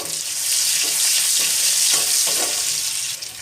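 Panch phoron spices and chopped onion sizzle loudly in a kadai with fried fish for a Bengali fish curry, a steady close hiss with a few stirring scrapes, no talking.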